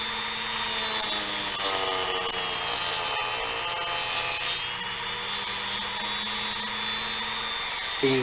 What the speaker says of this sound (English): I can get this little wheel in there and grind the rest of it out of the way